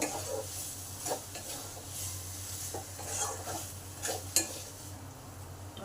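Potatoes stir-fried in a pan for an egg and soya chunk dish, with a faint sizzle under repeated scraping and clinking of a spatula against the pan, moderately quiet and steady.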